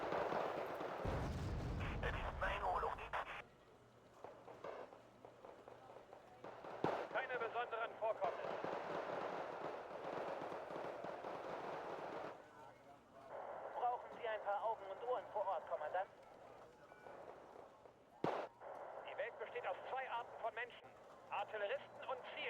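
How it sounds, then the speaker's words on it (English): Mortar strikes land in a video game as a series of sharp, booming blasts scattered among game sounds, while a voice talks over much of the action. "Oh, good mortar strike"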